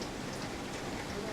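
Rain on Mount Rigi in Switzerland, worsening toward sleet near the summit: a steady, dense hiss of falling drops, continuous and even throughout without any clear break.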